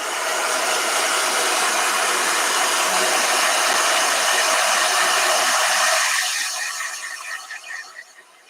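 A handheld blow dryer runs loud and steady with an airy roar, then cuts off near the end and fades into quieter rattling.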